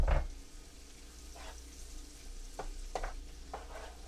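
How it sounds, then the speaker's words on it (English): Four cloves of well-chopped garlic frying in a pan, giving a soft steady sizzle with occasional light stirring scrapes. "Cook this about a minute or so. We don't want that garlic burning."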